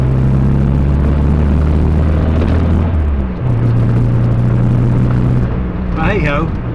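Morris Minor car engine running with faulty points, a loud steady droning hum that drops in pitch partway, with someone talking over it.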